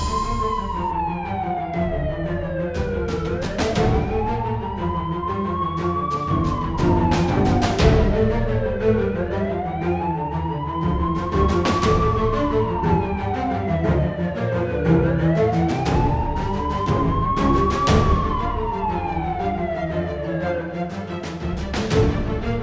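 An ambulance siren wails continuously and loudly at close range, its tone sweeping up and down in long regular cycles over steady traffic noise, with no speech.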